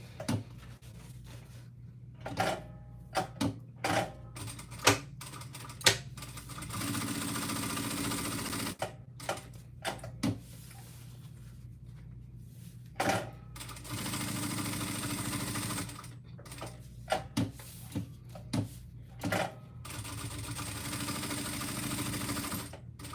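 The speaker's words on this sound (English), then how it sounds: "I'm gonna go ahead and sew around that" A sewing machine stitches around a handmade bag in several steady running bursts, separated by pauses with clicks and handling of fabric.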